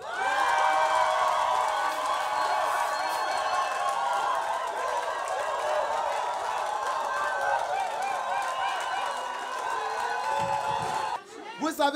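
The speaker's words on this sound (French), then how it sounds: "Acclamez le Seigneur" A church congregation acclaims and cheers for the Lord, a loud, dense roar of many voices shouting and whooping together, sustained throughout and then breaking off abruptly near the end.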